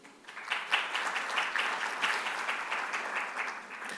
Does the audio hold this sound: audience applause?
yes